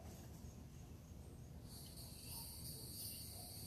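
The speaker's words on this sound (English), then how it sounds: "That buzzing right there is their cicadas." Cicadas buzz outdoors in nature, a faint, continuous high drone that grows stronger and brighter about halfway through, with no talking.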